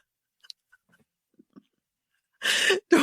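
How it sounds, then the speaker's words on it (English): A sharp, breathy burst up close, a sneeze, followed by a second short blast after a few faint clicks and small mouth sounds. "At least your sneezes are angelic to make up for your laugh."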